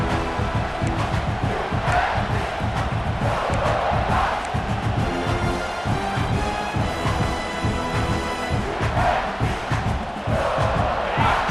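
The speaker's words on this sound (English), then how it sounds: "It's early, but this crowd is fired up. Listen to this noise here." A roaring stadium crowd at a college football game between Alabama and South Carolina in EA Sports College Football 26, loud and sustained, with chanting and yelling surging in waves throughout.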